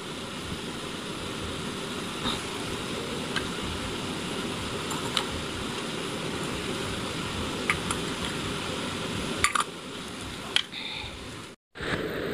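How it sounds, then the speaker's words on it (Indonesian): A river running beside and below a house gives a steady, broad rushing noise throughout, with scattered clicks and handling knocks and a brief dropout near the end. "Mohon maaf kawan-kawan, itu suara berisik itu berasal dari sungai kawan-kawan."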